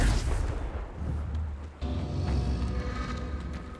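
The Confringo fire-blast spell from the game Hogwarts Legacy bursts with a heavy, booming low rumble. A sharp impact near the middle renews the roar, which stays loud with no voice over it.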